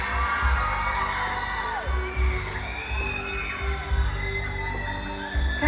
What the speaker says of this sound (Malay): Tepukan gemuruh hadirin sekalian untuk Ngadau Daerah Tampawili, Cik Renisha Rachel Lee.